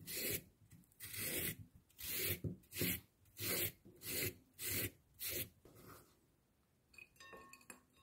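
Radish being shredded on a kitchen grater for a single-serving summer vegetable salad, heard as about eight rhythmic rasping strokes close by, followed by quieter clinks and rustling, with no talking.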